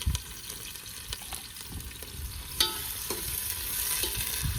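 Onion fries in a pan with a soft sizzle, broken by clanks and scrapes of stirring, the hiss growing a little louder toward the end.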